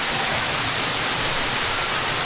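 A waterfall roars continuously, a dense, loud rush of falling water with no breaks and no voices over it.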